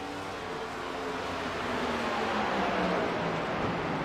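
Ford race cars lap Sonoma Raceway in a Metro Ford Cup race, a continuous engine drone with tones that slide in pitch as cars pass and shift, moderately loud and broad, without talk.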